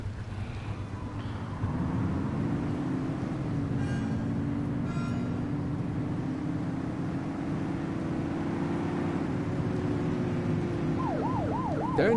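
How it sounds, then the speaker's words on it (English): Police car siren in The Precinct video game, a continuous wailing tone rising and falling over engine rumble, steady and fairly close throughout, with a quicker warbling yelp near the end. "Turn that siren off. We don't need it on right now."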